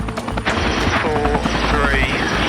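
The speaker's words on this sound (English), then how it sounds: "There's still her first flight in a helicopter." Loud, steady rescue helicopter rotor and engine roar close by as it takes off, with whining turbine tones rising as it spools up; faint voices come through underneath.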